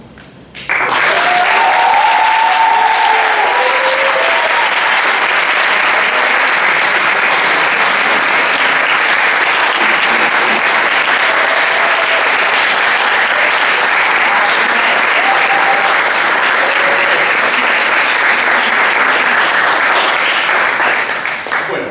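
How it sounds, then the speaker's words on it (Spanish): An audience applauds the tutors at a regional international humanitarian law moot court competition: loud, dense clapping from a large crowd, sustained for about twenty seconds with scattered cheers. "Aplaudir, tenemos un aplausómetro acá atrás para el tutor más querido."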